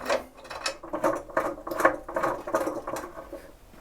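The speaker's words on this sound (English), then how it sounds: "Undo the screw" Screw being undone on a Lumberjack PT254 10-inch planer thicknesser, unplugged: a rapid series of small metallic ratcheting clicks and scrapes up close, steady and unbroken for several seconds with no talking.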